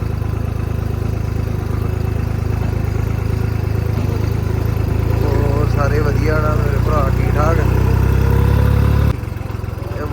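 A tractor engine chugs steadily up close, a low continuous rumble, while a person talks over it; the engine cuts off near the end.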